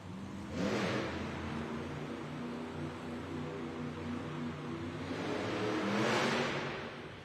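Monster Jam trucks rev hard off the start line at an arena event, two loud engine surges swelling and fading at the start and end with a continuous roar in between.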